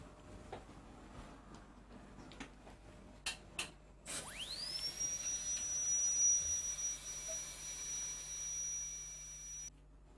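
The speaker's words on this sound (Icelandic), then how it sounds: "Fyrst ætla ég að bora og svo ætla ég að setja fyllingu í." A dental drill whines up at a dentist's office to bore a tooth before a filling, a thin high-pitched steady scream spinning up after a few small clicks and holding for several seconds.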